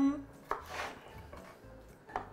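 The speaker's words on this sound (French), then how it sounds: "Et on hache notre ail." Garlic chopped with a knife on a board for chicken biryani, a few sharp knife taps scattered over a quiet kitchen background.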